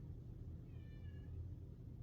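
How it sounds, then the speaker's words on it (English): A pet cat meows once in a quiet room, a faint, short harmonic call under steady low background hum. "There's my cat."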